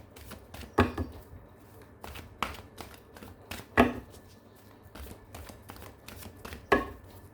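Tarot cards being shuffled during a reading, giving several crisp riffle bursts spaced a second or more apart over a quiet background, fairly close and without talk.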